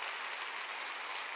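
Applause from a church congregation during a Sunday worship service, a steady even wash of many hands clapping, moderately faint and continuous with no voices over it.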